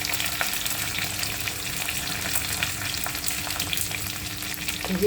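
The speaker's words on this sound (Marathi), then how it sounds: "त्यामध्ये कढीपत्ता टाकायचा." Curry leaves hit hot oil in a pan for a red pumpkin bhaji, a dense, steady crackling sizzle close up with light stirring scrapes, swelling slightly at the end.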